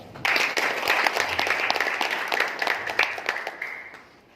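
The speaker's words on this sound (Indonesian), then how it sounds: "Aplaus buat saya, Pak." An audience at a success-story talk breaks into steady, dense applause, many hands clapping together for about four seconds before tapering off.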